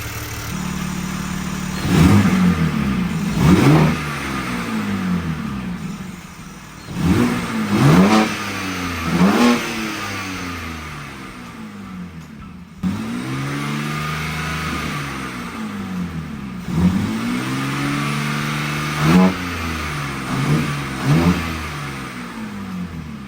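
A manual BMW G80 M3 fitted with titanium front-mount intakes is revved repeatedly from idle, with several sharp throttle blips that climb and fall back, loud and close.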